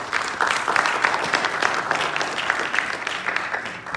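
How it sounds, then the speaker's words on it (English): A seated audience at a health and wellness panel discussion in a hospital in New York applauds, giving a dense, steady wash of many hands clapping at even volume for several seconds. "let's welcome our panel and give them a round of applause"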